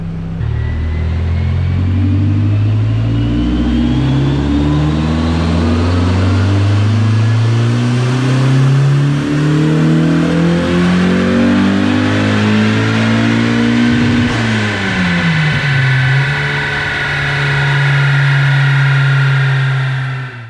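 A turbocharged Mazda Miata strains through a loud dyno pull, the engine note climbing steadily in pitch as revs build, dipping briefly at a gear or throttle change, then rising again, close and without talk.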